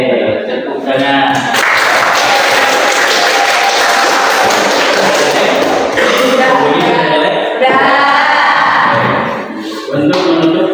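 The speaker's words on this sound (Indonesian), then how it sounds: "tepuk tangan" A classroom of students clapping their hands together during an informatics lesson, a loud burst of mixed claps and thumps with chatter and laughter over it, near and continuous.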